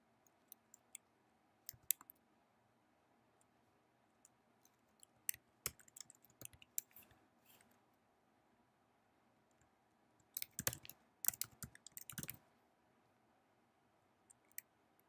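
Typing on a computer keyboard: scattered, sparse key clicks over a quiet background, broken by a denser flurry of fast taps in the middle and a few isolated clicks toward the end.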